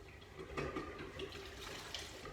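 Maroon dye water drains out of a sink after coned yarn has soaked in it, a steady gurgling rush of moderate loudness with no talking.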